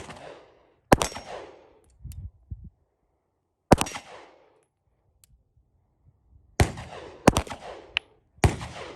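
A CZ 75BD pistol fires at a shooting range: five sharp, loud reports at irregular intervals, two of them close together near the end, each trailing into a short outdoor echo with quiet pauses between.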